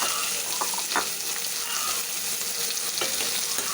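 Onion, green chili and garlic sizzle and fry in a hot pan after mustard seeds have popped, a dense close crackling hiss with a few stirring clinks.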